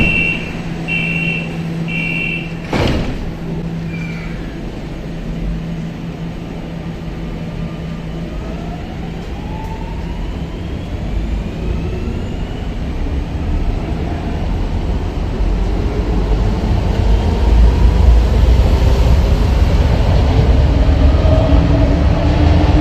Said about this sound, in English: at least they still got a very nice sounding VF drive